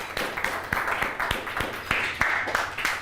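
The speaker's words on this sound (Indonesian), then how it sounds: "Tepuk tangan untuk Sandi Sukron." Audience clapping at a live comedy-style show, sharp close claps in an uneven rhythm with vocal murmurs mixed in.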